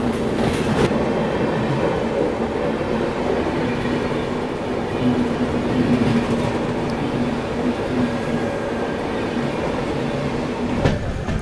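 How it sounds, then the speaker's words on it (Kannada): The Hassan–Solapur Express rumbles steadily as it departs, a continuous, loud rolling drone of rail cars with a low hum and faint rhythmic wheel clatter, heard without speech. "one of my favourite legendary ಗಾಡಿ ಹಾಸನ ಶೋಲಾಪುರ ಎಕ್ಸ್ಪ್ರೆಸ್ ಹೊರಡ್ತಿದೆ ನೋಡಿ"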